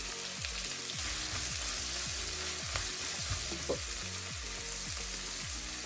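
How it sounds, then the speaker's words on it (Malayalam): Shallots and curry leaves frying in hot oil with mustard seeds spluttering, a dense continuous sizzle with steady crackling pops, close and fairly loud, no talking. "കടുക് നല്ലതുപോലെ കുത്തുന്നുണ്ട്"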